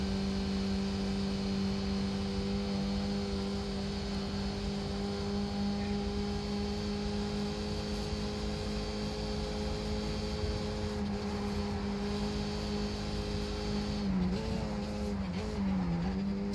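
A Skip Barber race car engine drones steadily at Bathurst's Mount Panorama circuit in the iRacing sim, a constant mid-pitched whine that wavers and shifts pitch near the end as revs change.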